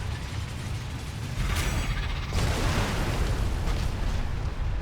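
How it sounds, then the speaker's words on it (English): Cannon fire in World of Warcraft: Battle for Azeroth, during the Battle of Brennadam, comes as a loud booming burst followed by a second heavier blast with a sustained rumbling roar, no talk. "have an Azeroth cannon."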